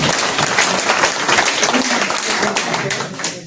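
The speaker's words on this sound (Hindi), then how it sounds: "तो आप एक बार तालियां ऐसी बजाएंगे, पक्का दे देना वही बात।" A seminar audience in Haridwar breaks into loud, sustained applause, many hands clapping densely and close for the whole stretch, with faint crowd voices mixed underneath.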